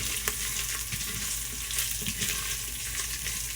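Garlic fries in a pan as it turns golden for a Gujarati ridge gourd and moong dal dish, giving a steady, dense sizzle with light stirring scrapes, close and fairly quiet, with no talking.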